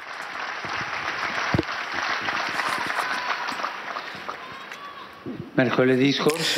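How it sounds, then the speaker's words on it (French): Crowd applause at a papal general audience, as a large gathering claps continuously for several seconds with a dense, steady roar, and a voice begins speaking over it near the end. "je vous demande d'applaudir et de saluer les personnes qui nous suivent depuis la salle Paul VI"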